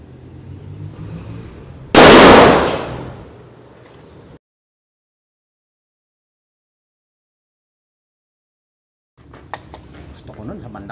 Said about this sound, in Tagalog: Putukan ko ulit. Gamit ang M855 ball. Patamaan ko sa bandang sentro.